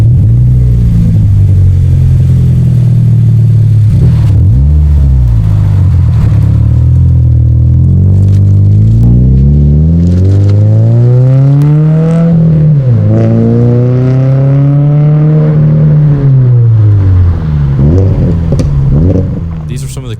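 A Subaru BRZ fitted with a cheap aftermarket exhaust drives past, its engine note rising and falling through revs and gear changes, loud and close, with voices talking over it.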